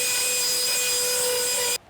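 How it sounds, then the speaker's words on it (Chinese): Fine sandpaper rubs over lacquered wood on an audio cabinet, a continuous close abrasive rush with a faint steady hum. It ends abruptly. "所以要用比较细的砂纸给它跑过"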